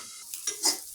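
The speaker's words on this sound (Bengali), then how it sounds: "করলা ভাজি নাড়ছি।" Bitter gourd being stirred and fried in a pan, with soft sizzling and a few short scraping strokes of the spoon over about a second, close and fairly quiet, no talk.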